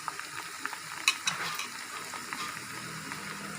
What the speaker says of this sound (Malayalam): അതിനുശേഷം നമുക്ക് ഈ വേപ്പില ഇട്ട് കൊടുക്കാം. അത് കഴിഞ്ഞ് തുളസിയില ഇട്ട് കൊടുക്കാം.